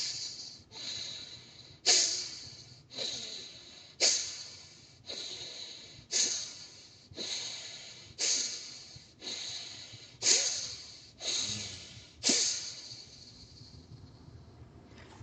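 Forceful rhythmic nasal exhalations from a yogic pranayama breathing exercise, about a dozen sharp snorting breaths at a steady pace of roughly one per second, close and clear with no talking.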